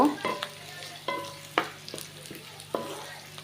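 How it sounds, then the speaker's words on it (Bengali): Onions frying in hot oil in a home kitchen, a steady close sizzle broken by repeated scraping stirs of a spatula in the pan, with no talking. "তো এখানে যে আমি তেলটা দিয়ে এখন আমি পেঁয়াজগুলো ভেজে নেব।"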